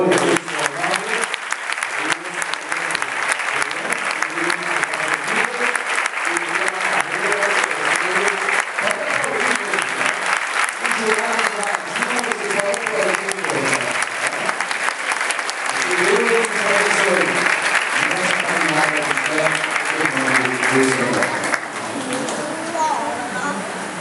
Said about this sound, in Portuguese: E peço à igreja toda que aplauda o Senhor.